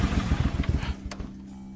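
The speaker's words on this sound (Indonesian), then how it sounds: "kok banyak sekali suara motor ini?" Several motorcycle engines rumble and rev close by, the noise fading as they pass, leaving a low idling hum.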